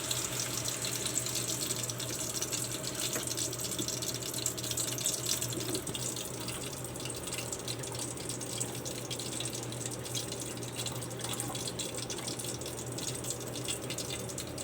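Tap water runs steadily into a cooking pan while making pancit gisado, a continuous splashing gush that softens slightly partway through, with no talking.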